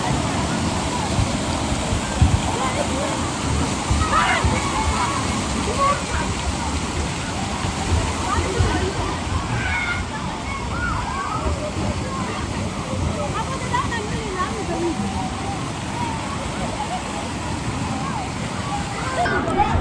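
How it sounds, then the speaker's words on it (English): Water slides at a large water park rush and splash continuously, a steady dense wash of falling and churning water with crowd noise mixed in throughout. "This is the main water slides."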